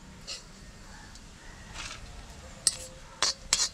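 Roasted grated coconut scooped out of a frying pan: a faint background sizzle, then a few sharp metallic clinks of a ladle against the pan near the end.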